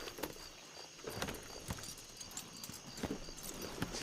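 Horse hooves clip-clop in a video game, an irregular run of sharp close knocks over a steady low background, with no talk.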